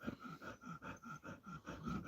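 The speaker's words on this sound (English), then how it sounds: "That's the dog behind me." A dog pants in quick, steady rhythmic breaths close by, with a faint snorting edge and no talking, on a warm 68-degree spring day.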